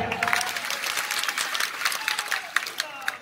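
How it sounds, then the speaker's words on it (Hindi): A crowd at an outdoor public protest rally in Ujjain applauds for Dilip Singh Gurjar, dense rapid clapping throughout with a voice briefly audible over it. "दिलीप सिंह गुर्जर जी के लिए जोर से तालियां"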